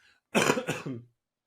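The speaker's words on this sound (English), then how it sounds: "sorry, coughing time" A single short, rough cough or throat-clear, close and fairly loud, then silence.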